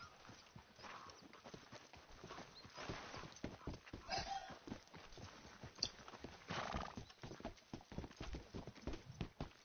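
A horse's hooves clip-clop steadily in the video game Red Dead Redemption 2, with the animal neighing partway through over continuous close hoofbeats.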